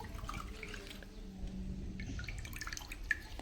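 Water trickles and splashes quietly into a small container, a soft continuous pour with faint drips.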